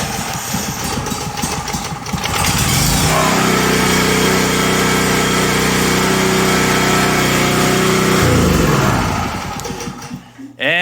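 A Champion Dual Fuel 4550 portable generator running on gasoline with the choke on is pulled to start and catches, then runs at a steady loud hum for several seconds before it is shut down.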